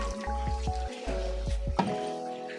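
Water poured into chana daal palao cooking with yogurt in a pot, giving a series of short wet splashes and squishy drips, close and moderately loud.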